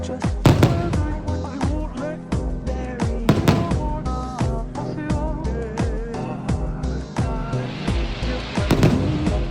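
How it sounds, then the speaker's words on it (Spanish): A theme-park fireworks show at Disney California Adventure, with loud repeated booms and crackling bursts in quick succession, close and echoing, over crowd murmur. "Para terminar el día, cenamos en Galaxy Edge y vimos el espectáculo de fuegos artificiales."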